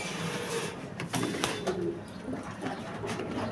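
Soft, low cooing from a Jansen-line pigeon pair, bird sounds repeating in short bursts over a steady background hiss, moderately close, with no speech.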